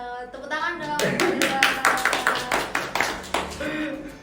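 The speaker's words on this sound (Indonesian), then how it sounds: "Tepuk tangan dong." A small group claps hands in a short burst of applause, sharp irregular claps over about three seconds, mixed with speech at the start.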